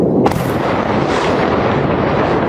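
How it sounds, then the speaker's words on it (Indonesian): A loud missile explosion booms across Tel Aviv, a sudden heavy blast followed by a continuous roaring rumble that fills the whole stretch without pause. "beberapa rudal tetap menghantam area pusat Israel dan menimbulkan gelombang ledakan yang terdengar luas di kota"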